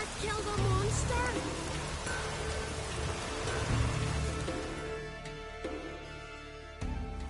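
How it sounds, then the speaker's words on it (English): Steady rain falls across the island landscape of Skellige in the video game Witcher 3, a dense, even hiss that continues throughout, slowly thinning toward the end, with a few faint tones beneath it. "Raining again."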